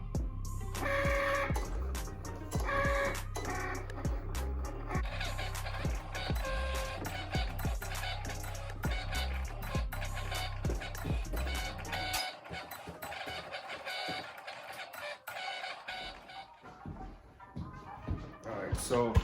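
A vinyl cutter slicing vinyl for T-shirt transfers runs in a series of mechanical whirs and stepping buzzes with short stops and starts, close and steady, then quiets near the end. A person talks at points over the machine.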